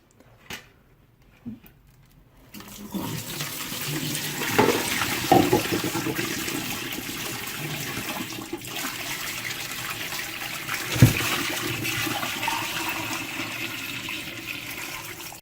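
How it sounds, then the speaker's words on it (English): Water from a betta fish tank being dumped out, a steady rushing slosh that starts after a quiet opening and runs continuously, with a brief louder splash near the end. "you dump all the water out of your fish tank"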